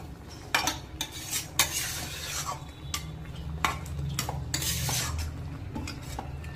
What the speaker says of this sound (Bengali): এবার এটা ভালো করে সবকিছু একসাথে মিশিয়ে আবার একটু কিছুক্ষণ নাড়তে হবে।